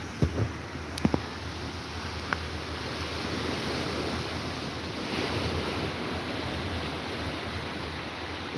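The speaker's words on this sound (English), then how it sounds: "Oh, this tide is really coming in." Ocean surf from an incoming tide at sunrise rushes and roars steadily along the shore, mixed with wind buffeting the microphone and a few faint knocks early on.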